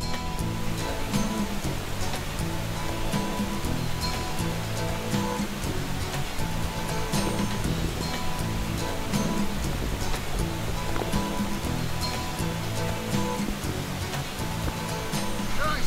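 Tinuy-an waterfall in Bislig, Surigao del Sur, a multi-tiered falls, roaring in a steady, dense wash of water that holds constant throughout, with faint crowd murmur beneath.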